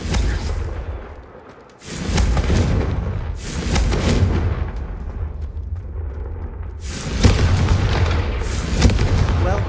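Booming fire spell blasts from the Confringo curse in Hogwarts Legacy, several loud explosive bursts in succession with rumbling tails, including a heavy blast near the end.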